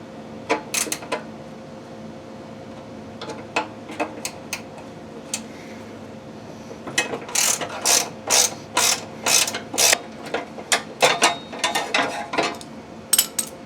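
Ratchet wrench working a 1/2-inch bolt loose on a Ferris FW15 mower during a mulch kit install: scattered clicks at first, then a steady run of quick, close ratcheting bursts, with no talking.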